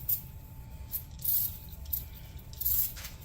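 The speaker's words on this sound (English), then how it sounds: "first we'll spray it with new oil." Short bursts of spray lubricant hiss onto a sticky part of a Glastron Carlson boat's engine, three or four close, quick spritzes separated by brief pauses.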